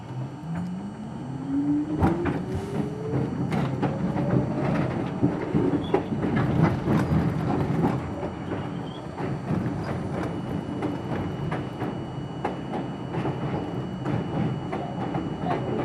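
An R42 subway car runs on the rails on the Z line between Jamaica Center and Broad Street, with a continuous rumble, repeated clicks from the rail joints and a rising whine as it gathers speed.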